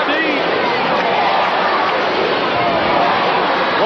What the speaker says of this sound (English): Listen to this capacity crowd chanting JYD.